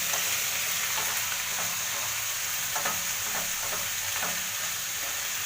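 A vegetable palya stir-frying in oil tempering without water, a steady close sizzle broken by repeated scraping stirs of the spoon in the pan, with no talk.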